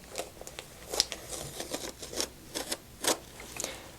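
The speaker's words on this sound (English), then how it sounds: "Once it's cooled down, I just remove the backing" Crisp crackling and ticking as the backing is peeled off a cold-peel two-colour Fashion Film heat transfer on a cap, a string of short irregular snaps and rustles, close and fairly quiet.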